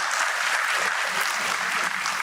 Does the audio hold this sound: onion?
no